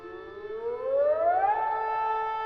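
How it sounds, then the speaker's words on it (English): An air raid siren wails, its tone sliding upward and then holding a high steady pitch, loud and alone. "Why would there be an air raid siren?"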